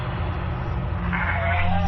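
A sick sheep bleats in a Tajik drama series: one short, wavering, nasal cry close by over a low background hum.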